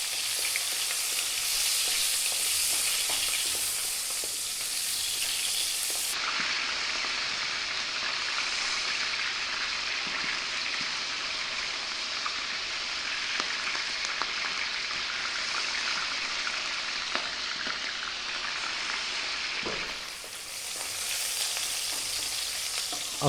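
Ginger slices fry in a pan over high heat with a loud, continuous hissing sizzle that holds steady for a long stretch, broken by occasional small crackles and pops.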